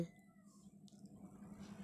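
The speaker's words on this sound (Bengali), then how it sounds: "বিড়াল ডাকে ম্যাও ম্যাও" A single soft cat meow, brief and faint, rising from a quiet background.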